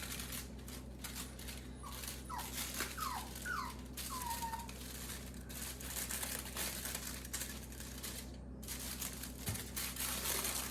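A puppy whimpers in a home kitchen, a short run of rising high whines near the start over constant crinkling and rustling of food prep.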